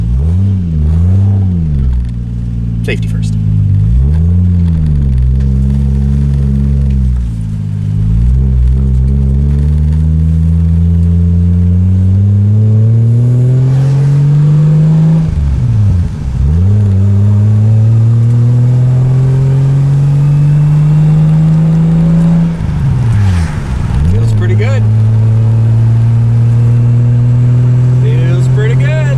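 A 2JZ-GTE engine swapped into a MKIII Toyota Supra, taken from an Aristo, revs up and down repeatedly in loud, rising and falling sweeps, then settles into steadier climbing pulls while a person speaks briefly over it.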